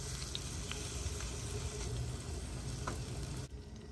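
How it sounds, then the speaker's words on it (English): Shrimp frying in butter in a pan, a soft continuous sizzle with faint crackles and pops, steady and fairly quiet, with no one speaking. "One to two spoons of butter. Add shrimp. And now we're gonna cook at least 3 to 4 minutes."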